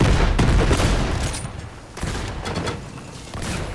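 Grenades explode amid continuous gunfire in the Borderlands 3 video game, a loud, dense barrage of booms and bursting shots with brief dips in intensity.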